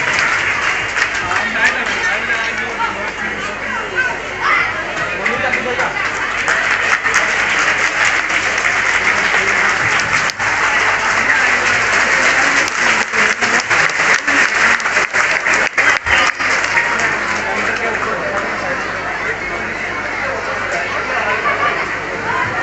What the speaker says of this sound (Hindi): जोरदार तालियों बजाएंगे सभी